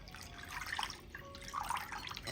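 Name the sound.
pouring cornflour and grape juice mix into pan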